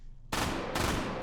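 Sustained burst of very rapid MG42 machine gun fire in H3VR, an 8mm Mauser gun fed from a drum, starting abruptly after a short quiet lead-in, loud and continuous with a brief gap near the end.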